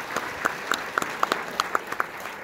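A small audience at a film Q&A after a screening claps in sparse, distinct hand claps at close range, a brief scattered round of applause.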